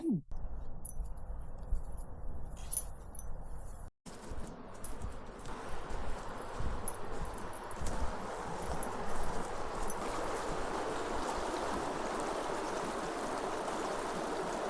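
A river flows somewhere below a campsite, a steady broadband rush of moving water that runs continuously under the whole stretch, with some faint speech and small handling noises at the start.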